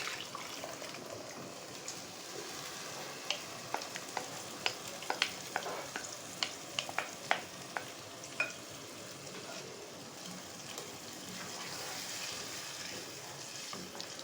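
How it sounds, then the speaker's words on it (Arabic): Tomato juice poured onto golden fried garlic and onions in a pan gives a steady, fairly quiet sizzle, with scattered clicks and light scraping of stirring throughout and no talking. "هبدأ انزل بعصير الطماطم"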